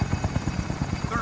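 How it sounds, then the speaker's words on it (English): Helicopter in a shooter video game, a loud close rhythmic rotor chop thudding steadily throughout, with a person talking over it. "there's a helicopter there"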